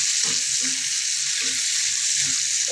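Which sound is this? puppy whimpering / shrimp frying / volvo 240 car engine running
shrimp frying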